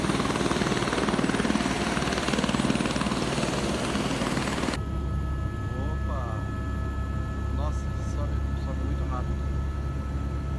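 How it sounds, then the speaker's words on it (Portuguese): A helicopter arriving, loud and close with broad rotor and turbine noise for the first few seconds, then dropping to a steadier, quieter whine and hum as voices talk over it. "Olha pessoal, chegou o helicóptero que vai me levar para o hotel"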